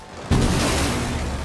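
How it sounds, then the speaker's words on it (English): A Rainbow Six Siege hard breach gadget exploding in-game, a sudden loud boom that sets off a sustained rumbling, crackling roar filling the rest of the moment. "bringing a new attacker named Ace, who throws sequentially exploding hard breach gadgets"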